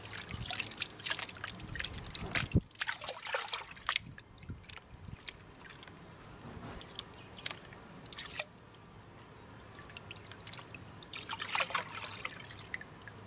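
Crushed rock is panned for gold in water at an Australian gold mine, with soft trickling, sloshing and gritty swirls punctuated by occasional clinks and splashes, close and fairly quiet, no talk.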